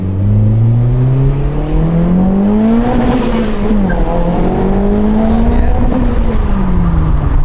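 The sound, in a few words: turbo car engine revving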